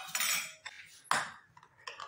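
A spoon mixes leftover rasmalai with whipping cream in a bowl, making a few quiet metallic clinks and short scrapes in irregular bursts, each separated by brief pauses.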